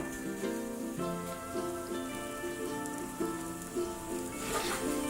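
An imitation egg fries in a pan, giving a soft, steady sizzle that crackles faintly throughout, quiet and even, with a low background tone running underneath.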